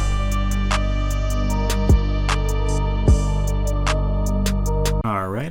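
Synth accent run through a Vintage Delay plugin set to 8 in the right ear and 4 in the left, with rhythmic short notes echoing over a steady sustained pad, ending in a brief swooping pitch sweep.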